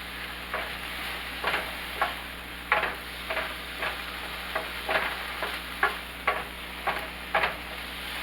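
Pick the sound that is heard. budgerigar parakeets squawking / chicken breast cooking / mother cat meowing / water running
chicken breast cooking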